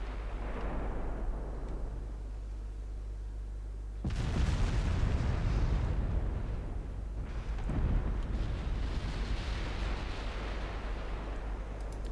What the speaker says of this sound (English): We are returning fire.